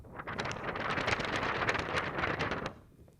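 Steady rushing and rustling from a paper sheet handled to imitate strong wind blowing, a close continuous whoosh lasting about three seconds before it stops, with no talking.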